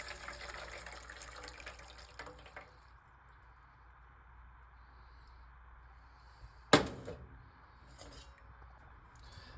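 Cooked udon noodles are strained in a kitchen sink, with water pouring and hissing at first, then fading to low background with a sharp clatter of a pot or utensil partway through.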